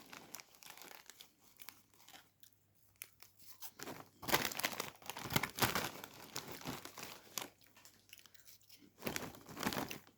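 A bag of Lulu cheese puff snacks crinkles and crackles close up in uneven bursts, some sharp rustles and crunches between quieter moments, with no talking.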